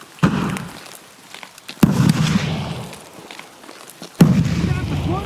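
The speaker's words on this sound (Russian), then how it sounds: "Граната!" Three sharp blasts from grenades and gunfire in the shooter game Escape from Tarkov, each a sudden thump followed by a rumbling tail, spaced a couple of seconds apart, with voices talking between them.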